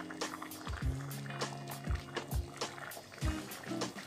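A spoon stirring thick champorado chocolate rice porridge in a pot, giving wet sloshing scrapes and light clanks against the metal in an uneven rhythm, close by with no voices.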